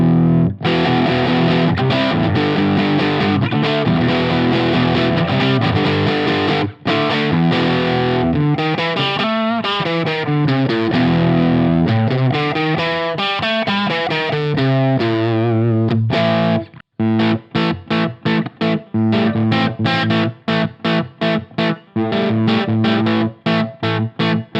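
An electric guitar plays through the Line 6 Helix Brit P75 amp model. Loud, heavily distorted chords ring out at first, then give way to rapid palm-muted chugs separated by sharp stops.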